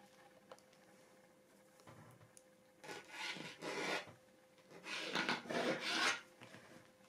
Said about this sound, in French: je vais tracer un trait donc à 24 cm comme ceci